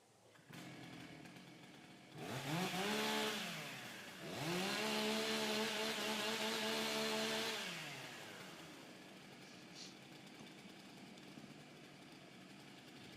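A chainsaw revs up at a timbersports competition during the saw warm-up: two strong, loud bursts of high revving that rise and hold before dropping back to a steady idle, heard alone without talk.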